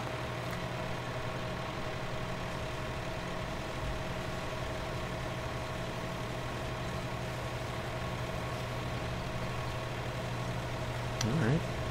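A farm vehicle engine in Farming Simulator 17 runs at high RPM while pulling a 1,000-pound weight, a steady droning hum that stays level throughout, with a voice talking over it.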